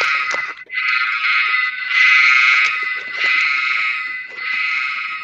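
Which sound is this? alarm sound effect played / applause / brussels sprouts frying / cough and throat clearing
alarm sound effect played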